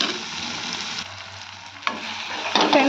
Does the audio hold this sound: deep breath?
no